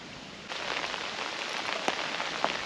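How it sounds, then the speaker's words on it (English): Heavy pouring rain hisses steadily over a private fishing lake, loud and close, with a few sharper drops striking a nearby surface and no voices. "it is pouring rain"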